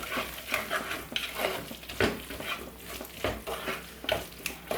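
Garam masala being stirred into the masala base for crab biryani in a pan, with a spoon scraping in repeated strokes and a soft sizzle underneath, close and steady with no talking.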